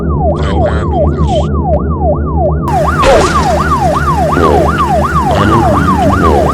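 A loud, close wailing siren sweeps up and down in a fast, steady cycle over engine rumble, with a sharp burst of noise partway through.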